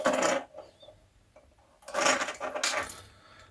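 Keys jangle together with a keychain flashlight (Lumintop Glow1) in two bursts of close, bright metallic clinking, separated by a quieter stretch with small rattles.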